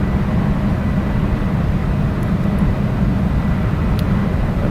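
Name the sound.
airplane coming in to land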